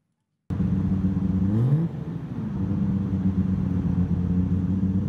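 A modified car engine revs hard through a loud exhaust, the pitch climbing sharply then dropping and settling into a rough, droning idle, close and loud with no talk.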